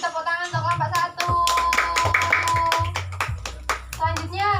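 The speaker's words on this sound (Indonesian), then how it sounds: "Beri tepuk tangan untuk kelompok 1." Fourth-grade primary school pupils clap for group 1 in an Indonesian classroom, bursts of rhythmic hand claps mixed with children's voices and chanting.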